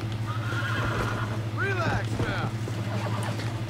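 Horse in the video game Red Dead Redemption neighing loudly in a couple of shrill whinnies over a constant low engine-like hum, with hoof clops and someone talking faintly in the background.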